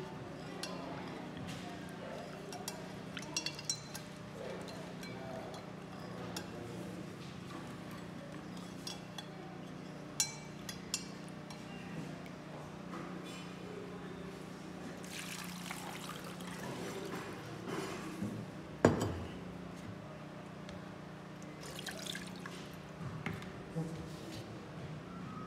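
Sodium chloride salt is stirred into water in a glass for an electrolysis setup, with faint pouring, trickling and clinking of a spoon against glass through a long stretch, quiet and close, alongside some background sounds.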